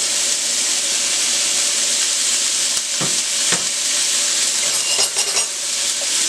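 Onions, garlic and celery stir-frying in a hot pan for shrimp fried rice give a loud, dense, continuous sizzle up close, with a few sharp spatula clanks and scrapes near the end.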